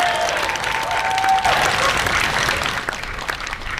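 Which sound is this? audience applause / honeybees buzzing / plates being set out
audience applause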